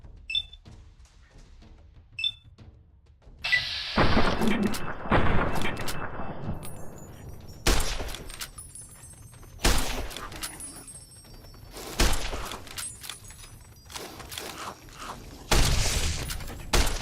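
Gunshots fired at geckos in Fallout New Vegas, a scatter of sharp, loud bursts spaced a couple of seconds apart, separated by quieter rumbling gaps, with faint clicks early on.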